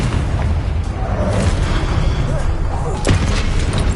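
Confringo fire spell blasts in Hogwarts Legacy, dense loud booming bursts packed together amid constant combat noise, with a sharper hit near the end.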